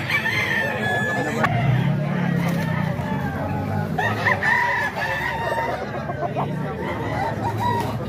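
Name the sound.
rooster crowing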